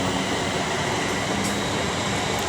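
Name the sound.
class 353 train passing at Milton Keynes Central, possible flat wheel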